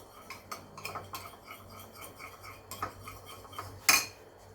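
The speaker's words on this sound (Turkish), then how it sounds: "yandan da şöyle arada sütü karıştırıyorum" A spoon stirs milk heating in a metal pot for homemade yogurt, with soft repeated scraping and light clinks in an uneven rhythm, close by, ending in one sharper knock against the pot.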